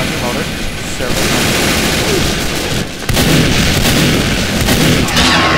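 Loud, dense gunfire and explosions from the game Team Fortress 2 roar almost without a break, with a brief dip before the barrage resumes, and a voice talks faintly underneath.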